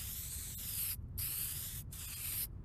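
Aerosol spray paint hissing onto a plastic car headlight outdoors in the wind, three steady bursts with brief silent gaps between, close and loud.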